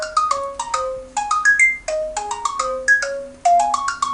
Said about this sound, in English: That was a phone call that came at the worst moment.